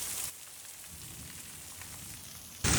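Heavy rain pours down again over a flooded courtyard, a dense steady hiss close by that swells louder at the end, with no one talking.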